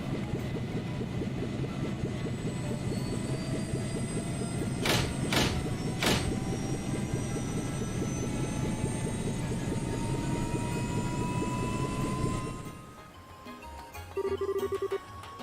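An airship takes off in the video game Trails in the Sky with a steady droning engine hum and slowly rising whines. Three sharp bright tones ring out midway, and the drone cuts off near the end, leaving a quiet beep.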